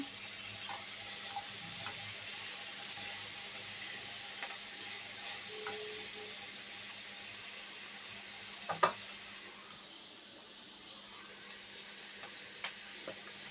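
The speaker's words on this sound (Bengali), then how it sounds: "আলু কপি ভেজে নিচ্ছে, এজন্য একটু তেল লাগবে" Potato and cauliflower pieces frying in oil, a soft, steady sizzle with occasional light taps and stirring clicks, fairly faint and without voices.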